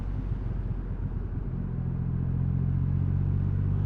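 A 2020 Triumph Rocket 3R motorcycle engine drones steadily while riding, a loud continuous low rumble with rising pitch toward the end.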